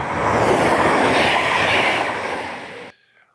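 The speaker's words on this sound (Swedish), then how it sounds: "den konstanta känslan och närvaron av tåg" A train rushes past loudly on the railway with a steady roar and clatter of wheels, then cuts off abruptly into near silence.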